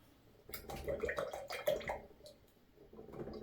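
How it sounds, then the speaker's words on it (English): An oil paint brush is swished and rinsed in water, giving soft splashing and sloshing in irregular bursts at close range. "I'm just going to rinse my brush out,"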